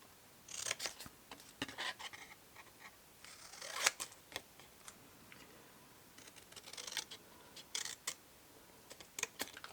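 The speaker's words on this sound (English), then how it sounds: "I can do this with a big pair of scissors. So let me just chop that bit off." A big pair of scissors chops through a milk carton being made into a gift box, giving sharp, crisp snips in irregular bursts at close range with quiet pauses between cuts.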